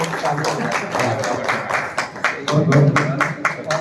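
Indoor audience clapping at a welcome gathering on a heritage tour in Lalitpur, a dense mix of overlapping claps with voices talking over it throughout.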